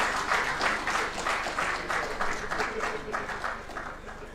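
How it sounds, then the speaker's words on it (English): An audience at an engineering institution's annual ethics lecture applauds the chair, with many hands clapping in a loud, uneven burst that gradually thins and softens toward the end. "A beautiful and wholesome round of applause for our chair."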